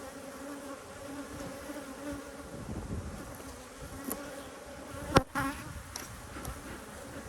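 A busy honeybee colony hums inside its hive, a continuous even drone with a sharp knock or bump partway through, no voices present.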